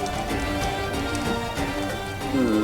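Heavy rain pours down steadily and loudly, a dense continuous wash with patters on surfaces, mixed with tonal background sounds.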